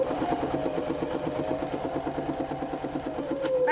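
A sewing machine back stitching a tote bag, a close, rapid mechanical whir with an even needle rhythm that runs steadily, then slows and ends with a brief hum at the stop; nobody speaks.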